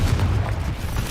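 A brief Confringo spell blast in Hogwarts Legacy: one loud, low, rumbling boom that lasts about a second, heard alone.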